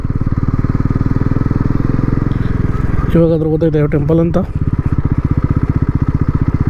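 A motorcycle rides along a road on a day trip to temples, its engine making a loud, steady close-up putter through the whole stretch. Someone talks briefly over it partway through.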